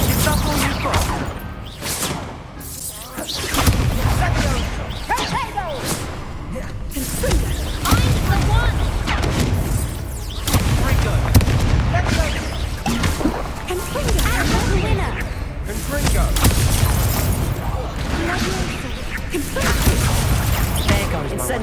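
In a Hogwarts Legacy duel, the Incendio fire spell bursts out amid whooshes, thuds and clanking, with frequent sharp impacts over a busy background for over twenty seconds.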